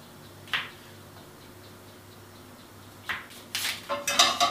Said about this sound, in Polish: wystarczy pokroić je po prostu na plasterki